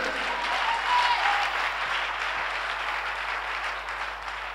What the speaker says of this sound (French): Give God a big clap